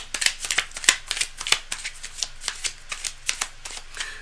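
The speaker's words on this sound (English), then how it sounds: "Cards are well shuffled already. I just want to go to the last second so that you're a witness." Tarot cards being shuffled by hand, a steady run of crisp riffling flicks and soft slaps, close and fairly loud, with no voices.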